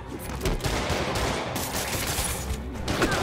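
Enemy thugs in Marvel's Spider-Man fire a dense, sustained burst of gunshots, rapid overlapping cracks rolling on like machine-gun fusillade for a few seconds.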